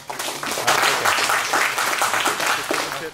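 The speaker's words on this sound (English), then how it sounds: "All right, let's give a round of applause." Audience applause following a keynote at a UC Berkeley startup and emerging-technologies session, a dense steady clapping from a crowd filling the room for several seconds without pause.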